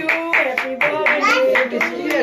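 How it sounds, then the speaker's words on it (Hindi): At a family birthday celebration at home, hands clap in a quick, rhythmic pattern while voices sing or talk along close by. "चलो तालियां बजाओ ना प्लीज।"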